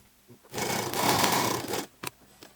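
A sewing machine runs a steady burst of stitching on the pocket seam of an elastic-waist palazzo pant, loud and close for just over a second, then stops, followed by a couple of brief handling knocks.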